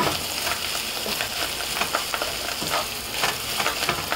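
Rohu fish roe with onion and sliced green chili sizzles steadily in a pan while a spatula stirs it in repeated scraping strokes, close and fairly loud.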